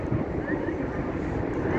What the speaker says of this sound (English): it's a Virgin Atlantic A350 off to some far and distant land